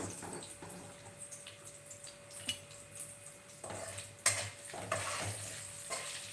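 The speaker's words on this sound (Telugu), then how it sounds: "ఇక్కడ కొంచెం పల్లీలు వేయించాలి చట్నీ కోసం" Peanuts frying in a pan for chutney give a soft, steady sizzle with scattered stirring scrapes and light clinks of a pot. It is faint and continuous, with no talk.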